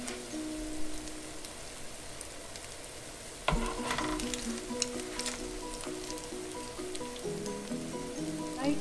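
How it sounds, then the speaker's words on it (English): Steady crackling sizzle of matar (green pea) patties shallow frying in a pan, with a louder burst of spattering partway through and continuing hiss under faint background tones. "let it fry on about this side also for about five minutes or so"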